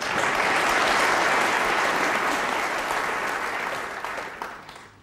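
Crowd applause fills an arena at the World Snooker Final after a frame ends, a dense sustained clapping that holds steady and then tapers off toward the end.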